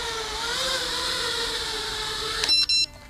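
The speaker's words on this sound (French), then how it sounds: "Vous voyez, toutes les 5 secondes, 6 secondes à peu près, on a un petit bip léger." A drone's steady electric whine drones on, then a few short, sharp electronic beeps from its anti-loss buzzer sound near the end.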